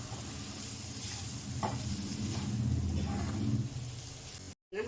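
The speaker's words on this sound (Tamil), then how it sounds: "மஞ்சத்தூள் கரம் மசாலா போட்டு நல்லா வதக்கணும்." A spiced mixture with turmeric and garam masala sizzles and fries in a pan, with occasional stirring and scraping, a steady moderate crackle close by that ends abruptly.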